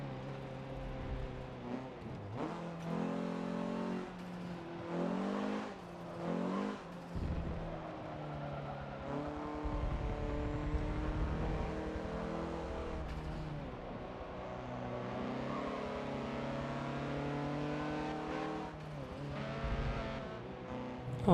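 A Dodge Omni in Forza Motorsport 7 drives with a continuous engine drone that rises and falls through gear changes and revs, moderately loud and steady throughout, with no talk over it.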